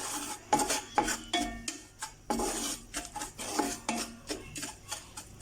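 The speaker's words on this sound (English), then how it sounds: "Now to this I'm going to be adding in our semolina. Give this a good stir." A spoon scrapes and clatters against a pan as semolina is stirred and toasted over a medium flame for soji laddoo, a rapid run of close, uneven strokes with no talking.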